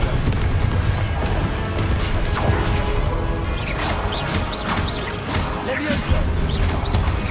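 Loud, dense fire-spell blasts from the Confringo curse in Hogwarts Legacy, booming and crashing repeatedly in close succession over constant combat noise.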